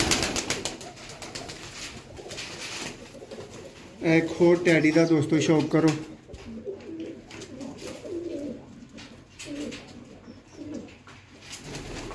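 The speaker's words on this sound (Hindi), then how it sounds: "बहुत ही आला कबूतर दोस्तों" Pigeons cooing in a loft of high-flying pigeons, soft repeated coos close by, with a louder rolling burst in the middle, heard between and under someone talking.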